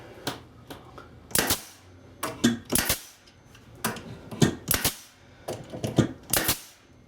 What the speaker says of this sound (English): So now our air compressor is all nice and filled up. We can run our nails into her.